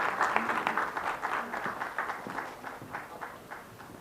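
Audience members at the Chandigarh Swachh Prerak Samman Award ceremony clap in a loosely rhythmic, pulsing pattern that starts fairly loud and gradually fades over a few seconds.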